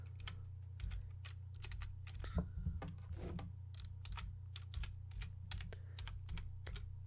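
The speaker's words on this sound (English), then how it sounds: "keyboard sounds, which I know some people like." Quick, irregular clicks and clacks of typing on a computer keyboard, fairly close and steady over a constant low electrical hum, with a few heavier key strikes along the way.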